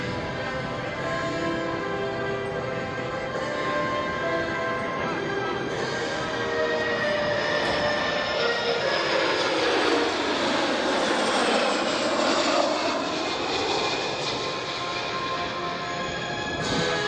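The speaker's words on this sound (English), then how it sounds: "keep your eye on the aircraft as we expect him now to make the left-hand turn" TC-135 aircraft passing overhead at an air show, a sustained loud engine roar that swells as it banks and sweeps through, with a commentator talking over it.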